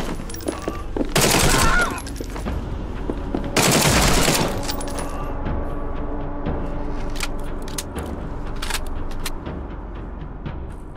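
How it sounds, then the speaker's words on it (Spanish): Bursts of machine gun fire in the horror detective video game The Sinking City: two loud, dense volleys of rapid shots roughly two seconds apart, followed by scattered single cracks over a lingering low rumble. "La ametralladora funciona muy bien"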